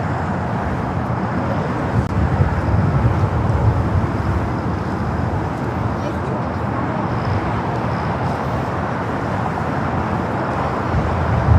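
A new United Boeing 787 Dreamliner taxis at LAX, a steady broadband engine roar and rumble that holds at constant loudness throughout, blended with distant airport traffic noise.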